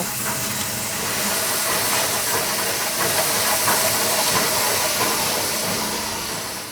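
A heavy press machine moulding rubber chugs steadily like a steam train under a loud, continuous hiss of steam or air, rising and holding for several seconds before easing slightly.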